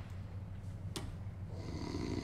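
A character in the TV series Wolf Creek breathes heavily, a low, faint, raspy rhythmic rumble with one sharp click partway through, heard alone.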